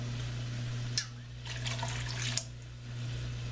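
A tap runs into a pot for cooking dried fava beans, a low steady splash that swells and thins over a few seconds, heard close above a constant kitchen hum.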